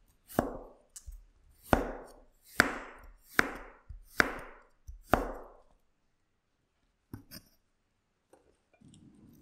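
A knife roughly chopping garlic cloves on a cutting board, six crisp, evenly spaced chops close by, followed by a few lighter taps and faint shuffling.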